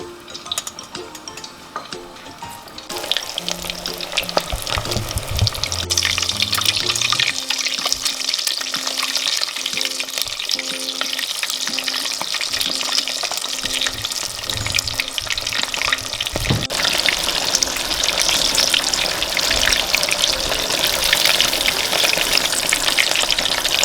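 Chicken deep-fries in hot oil, a loud, dense, continuous bubbling hiss that swells after a quieter start and holds steady throughout, close and without talking.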